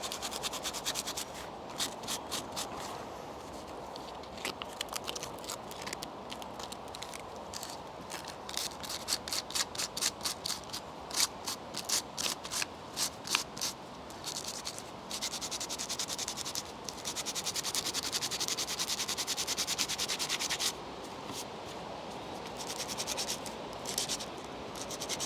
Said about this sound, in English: So what I'm doing is I'm sanding